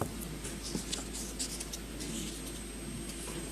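Papers being leafed through in a courtroom, with soft, irregular rustles and flicks of pages over a low steady hum, fairly quiet and close.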